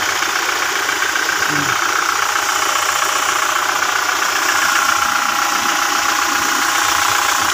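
Toyota Fortuner engine running at idle after a starter replacement, a steady, close, continuous mechanical hum with a slight knocking rattle, unbroken throughout with no talk.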